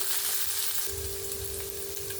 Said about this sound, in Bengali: রাইটা দেওয়ার পরে রাইটা একটু ভাজা ভাজা হয়ে গেলেই